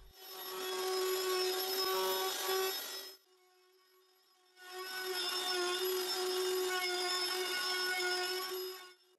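A power tool rounds the outside corners of wooden Adirondack chair seat and back slats, giving two steady, loud whining passes of about three and four seconds, separated by a quieter idle gap.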